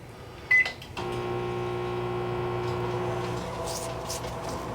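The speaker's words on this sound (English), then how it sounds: "Angela, go ahead and turn on the microwave." A steady electrical hum with layered harmonic tones begins after a short beep, continuing evenly like a running microwave oven nearby, inside an RV.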